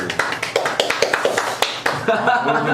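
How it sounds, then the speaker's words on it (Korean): Applause greets guests introduced at a local current-affairs talk event in Yeonggwang: a run of brisk, evenly spaced claps that fades after about two seconds, with voices talking over and after it. "예, 박수."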